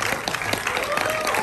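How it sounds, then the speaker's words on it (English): An audience applauds at a film screening, a brief, dense burst of clapping from many hands, loud and steady throughout. "How about a big round of applause for"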